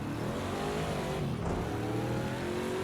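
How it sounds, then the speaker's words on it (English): A Ford Mustang GTD race car at Long Beach pulling away, its engine note droning steadily loud and climbing in pitch, with a brief dip near the middle like a gear change. "Get ourselves shifting upwards as we accelerate away from our class here just a little bit"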